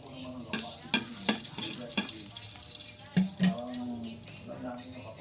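Garlic frying in a hot pan, a steady sizzle and crackle under repeated sharp clacks and scrapes of a utensil stirring against the pan, close up, with a person talking quietly over it.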